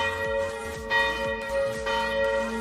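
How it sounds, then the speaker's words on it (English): Church bells ringing near the Rhine Falls in Switzerland, several overlapping bell strikes with long shimmering resonant tones that layer into a continuous pealing, heard fairly close and alone. "the church bells started ringing as if to bid farewell to"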